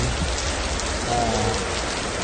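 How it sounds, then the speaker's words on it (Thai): Steady rain falls at Wat Dharmachakra Sema Ram, the temple of the 1,200-year-old reclining Buddha in Korat, Thailand: a dense, even hiss of drops on surfaces that stays close and constant throughout. "แล้วก็มี สายฝนตกลงมา เย็นฉ่ำ"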